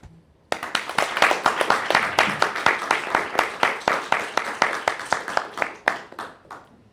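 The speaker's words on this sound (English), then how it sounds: "now is the time for a big clap for everybody." A small audience at a doctoral colloquium and mentoring session claps after thanks, individual hand claps distinct and fairly close, starting abruptly and holding a loose uneven rhythm for several seconds before thinning out.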